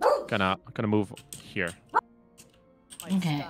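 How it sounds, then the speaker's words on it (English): A pet dog barks in short, sharp bursts mixed in with a person talking nearby, the yips and barks overlapping and alternating with the speech. "Sorry for the barking."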